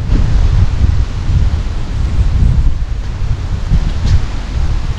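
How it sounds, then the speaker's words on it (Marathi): Cool wind blows at a beachfront resort near Alibaug, buffeting the microphone with a loud, continuous low rumble that swells and eases, with no voices present. "आणि खूप छान थंडगार हवा येते।"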